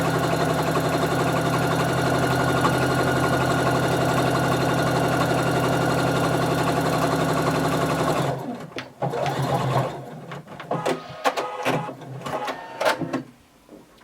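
Sewing machine stitching the side seam of a dress bodice, a steady fast mechanical whirr for about eight seconds, then stopping into short start-stop bursts of stitching and handling clatter.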